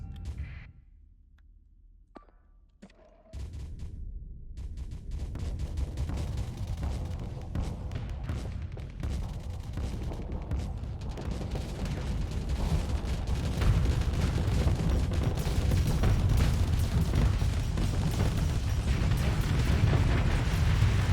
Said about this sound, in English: So there you see those Gorgon missiles doing their thing. They were able to overload the target.